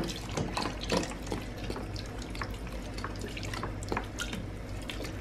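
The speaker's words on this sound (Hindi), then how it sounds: "अब इसके अंदर दूध डालेंगे 1 किलो दूध" Milk being poured into a cooking pot for bottle gourd (lauki) kheer, a steady liquid trickle and splashing that runs continuously for several seconds with small drip-like accents, fairly close and moderately quiet, with no talking.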